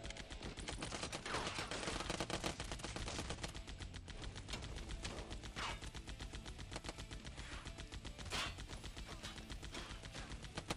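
M16-armed turrets fire continuously in the zombie shooter game Kill All Zombies on PlayStation Vita, producing dense, rapid automatic gunfire that keeps up without a break across the whole stretch.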